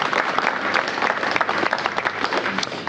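Audience applause at the opening of a new fire and EMS station in Washington, D.C., a dense, even burst of many hands clapping close by, holding steady for a few seconds.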